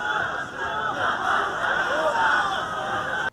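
Angry protesters at a street riot after Boris Johnson's election win form a dense crowd roar of shouting and overlapping voices, loud and sustained before cutting off abruptly.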